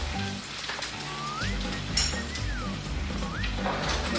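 A stuffed pork loin fresh from the oven gives a soft, steady sizzling hiss, close by, with a light clink partway through.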